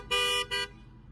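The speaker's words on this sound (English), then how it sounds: "I got rudely honked at when I was vlogging in the street." A car horn honks twice nearby, a long blast followed by a shorter one, loud and brassy over faint street noise.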